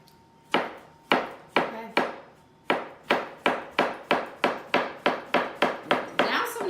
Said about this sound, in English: Now I'm just going to cut this cucumber up a little bit.